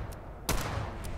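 A Fallout 4 gunfight: after a faint early crack, one loud sharp gunshot hits at mid-clip, followed by a sustained noisy rumble of continued fire and echo, with another faint pop near the end.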